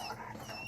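A dog whimpers in short, high, wavering whines, close and fairly quiet, lasting under a second.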